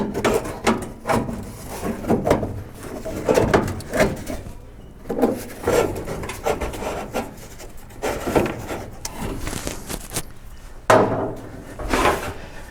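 A glove box for a 1960-66 Chevy/GMC truck is slid into place in the dash, giving repeated rubbing, scraping and knocking sounds of the compartment fitting in, close and fairly loud.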